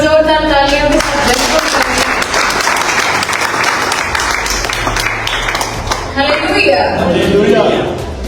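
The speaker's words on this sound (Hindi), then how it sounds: "पूरी कलीसिया एक बार जोरदार तालियों के साथ" A church congregation bursts into loud, dense applause during a sermon, sustained clapping filling the hall, with a voice and some cheering rising over it toward the end.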